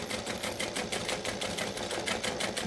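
A sewing machine top stitches slowly over a side seam on a bag, whirring steadily close by with a fast, even pulsing rhythm throughout.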